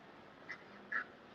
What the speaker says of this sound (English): That's my ducks outside.